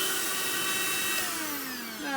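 Handheld Hotor car vacuum cleaner runs up close with a steady whining motor, its pitch sliding downward as the load shifts, with no voices.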